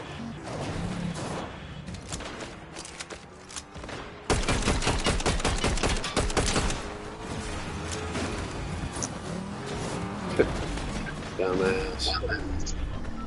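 Rapid bursts of video game gunfire crackle in the middle of a firefight, a dense fusillade that swells loud partway through, with players talking over the shots.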